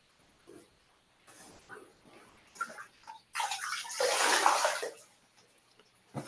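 Water splashes and sloshes as feet are rinsed in a foot-soak basin, with scattered soft drips building to a louder burst of splashing before settling back to quiet trickles.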